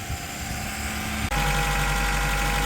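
Keeway RKV motorcycle engine running steadily nearby, a continuous loud drone that jumps abruptly to a heavier, fuller roar midway, as if the throttle was blipped, then holds at that level.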